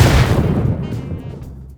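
A single heavy explosion in the video game PUBG hits loud and close, its deep rumble fading slowly over a couple of seconds.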